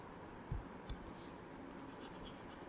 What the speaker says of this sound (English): I wrote it on the wrong side, so let's write it on the right side